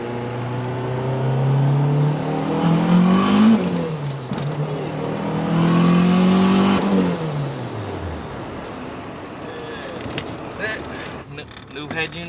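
A 1999 Honda Civic EK9 engine revving hard twice, each pull climbing steadily in pitch before dropping back, loud and close, then settling to a lower idle-like drone with faint talk.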